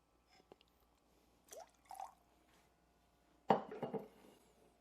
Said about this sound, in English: Next, we're going to go with 3/4 of an ounce of coffee, cold brew or brew your own